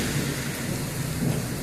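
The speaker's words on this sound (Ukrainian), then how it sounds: "Це це грім, і це гарно, що грім." Thunder rumbles low and steady through a spring evening thunderstorm over Saltivka, Kharkiv, blended with a dense wash of rain, heard continuously without talk.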